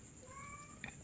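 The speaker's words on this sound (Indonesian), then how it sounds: "ada kucing saya kalau Anda mendengar suara ngeongnya" A pet cat gives a single short, faint meow indoors against a quiet background hum.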